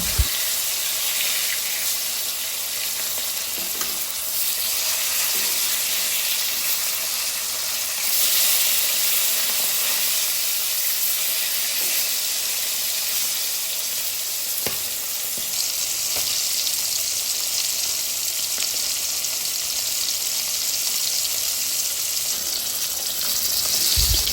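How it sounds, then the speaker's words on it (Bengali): Silver carp fish pieces frying on their second side in hot oil, a continuous loud sizzle with occasional pops and small stirring scrapes, alone without voices. "এক সাইড ভেজে নেওয়া শেষ উল্টে আমরা অপর পাশে ভালোভাবে ভেজে নেব"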